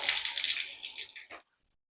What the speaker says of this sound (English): Get your water running.